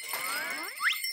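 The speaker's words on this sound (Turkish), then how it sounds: "Küçük canlılar sesimizi duysun da kaçsın diye zil taktım." Small ankle bells in an animated children's cartoon give a bright jingling shimmer with rising, gliding chime tones, brief and close.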